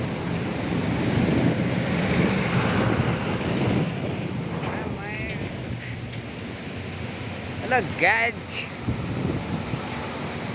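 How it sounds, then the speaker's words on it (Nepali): A windstorm with rain moving in outdoors: strong, steady gusts roar and buffet the microphone throughout, with a voice talking over the wind. "ल हेर्न सक्नुहुन्छ हावाहुरी पनि आयो।"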